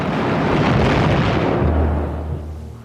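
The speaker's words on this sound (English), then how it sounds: "his ship is rocked by an explosion as one of Norfolk's shells knocks out her forward radar" A naval shell from HMS Norfolk strikes the German battleship Scharnhorst in a heavy, roaring explosion that swells for about two seconds, then settles into a low rumbling tail.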